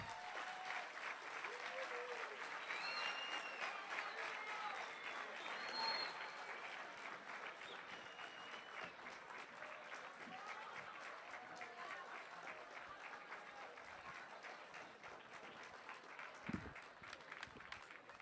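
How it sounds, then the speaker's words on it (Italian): An audience at a Job Day Sardegna conference in a Cagliari hall applauds a guest being introduced. The clapping is sustained and even and sounds crowd-wide and somewhat distant, with faint voices murmuring underneath. "Un applauso per Andrea Arru."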